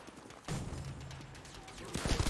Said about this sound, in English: I swear I'm shooting these guys in the head